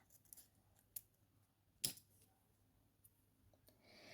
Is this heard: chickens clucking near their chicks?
no